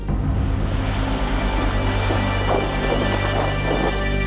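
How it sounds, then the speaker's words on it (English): Waves from the Matla river in West Bengal wash over the debris of a cyclone-breached embankment, making a continuous close rushing and splashing roar with no voices. "Waves now lash the debris of what used to be an embankment."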